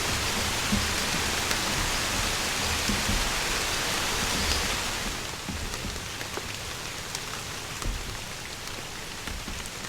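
Steady rain falls, a dense hiss of drops on surfaces that eases slightly partway through, with no voices.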